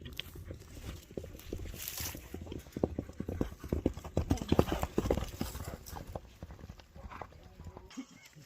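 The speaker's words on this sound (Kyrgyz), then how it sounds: "ойнотуп келатат мына тор атта. Кыргыз жылкысы бул." Hooves of a bay Kyrgyz horse clip-clop in a quick, steady rhythm at a gallop during a horseback game, close and fairly loud, with occasional faint shouts in the background.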